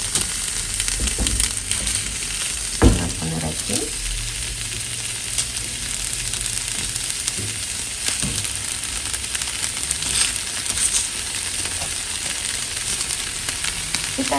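Five halved medium tomatoes with serrano chiles fry in a hot pan, a loud continuous sizzle and crackle with a single clunk early on, no talking.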